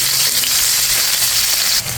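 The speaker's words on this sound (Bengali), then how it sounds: "পেঁয়াজটা ভাজা ভাজা হয়ে গেছে" Chopped onion frying in oil for a fish curry with tomato, a steady loud sizzle and crackle throughout with no talking.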